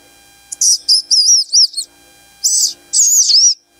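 A human voice mimics a small bird's call with high, sharp whistled chirps and warbles, delivered in two bursts of several quick notes separated by a short pause, close and clear against near silence.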